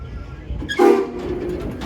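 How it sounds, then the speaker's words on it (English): A brief steam locomotive whistle blast sounds close by at a train museum, rising into a strong harmonic tone for about a second, then tapering off over a low background rumble. "I got a chance to slightly blow its whistle"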